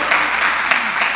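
A church congregation breaks into dense, steady applause during a worship service, loud and close for a brief moment, with no voices standing out.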